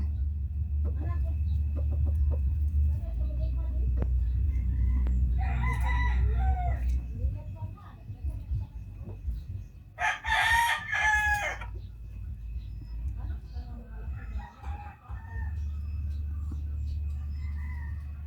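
A rooster crows once loud and near among frizzle chickens, a bright drawn-out call standing above a steady low rumble, with softer bird calls scattered before and after.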